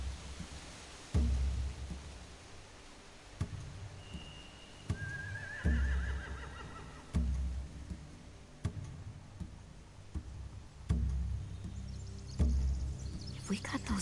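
Horses neigh and whinny in The Walking Dead: The Final Season, a couple of high whinnies over a steady ambient bed with regular clopping or ticking thumps, no speech.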